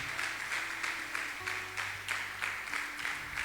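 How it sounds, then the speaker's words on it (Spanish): A church congregation claps in a steady, rhythmic beat during a sermon, the claps landing together in evenly spaced bursts over a low musical drone. "dale un aplauso al Señor"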